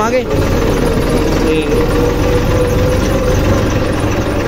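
A new Massey Ferguson 241 tractor engine runs steadily at a loud, close idle-like rumble, with someone talking over it.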